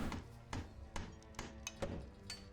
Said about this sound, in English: Who is hammering stuff?